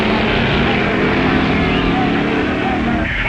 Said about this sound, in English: And there goes his brother Phil and his A Gasser, affectionately called Grandma.